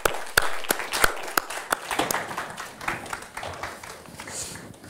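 Applause for a panel at a farm-to-fork conference, opening with a few sharp, separate hand claps that soon blend into looser, thinner clapping from a modest audience before tapering off.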